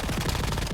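Rapid automatic gunfire from a gun in a video game rattles out in a loud, dense burst of shots lasting under a second, with no voices.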